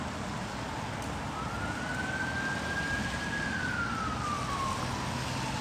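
A single fire truck siren wail rises and slowly falls in the distance over a steady wash of traffic and wind noise in Woodstock, New York.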